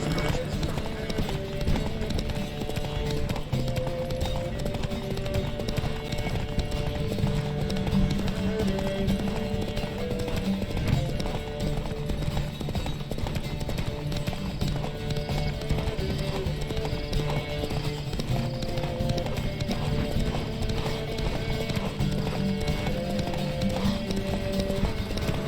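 Hooves clip-clop in a fast, steady galloping rhythm during a horse race in the video game The Witcher 3: Wild Hunt, beneath a continuous musical backdrop, with voices heard intermittently.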